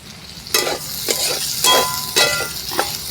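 Boiled potatoes with cumin and chili powder being stirred in a frying pan, heard as a close sizzle broken by about five rhythmic scraping strokes of a spatula.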